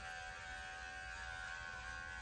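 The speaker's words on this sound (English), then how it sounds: "So she wants to go after the clipper" An electric dog clipper buzzes steadily and faintly, a constant hum while grooming a senior dog with special needs held in a grooming harness.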